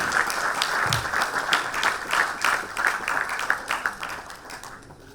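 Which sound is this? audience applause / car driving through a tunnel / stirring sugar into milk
audience applause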